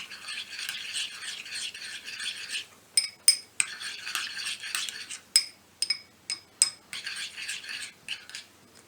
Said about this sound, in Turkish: Bunları güzelce karıştırıyorum.